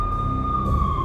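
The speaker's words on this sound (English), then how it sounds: "I could hear the sirens. Their wail was a crescendo." Police sirens from the video game Max Payne wail steadily and loudly as one high sustained tone over a low rumble, heard briefly and without pause.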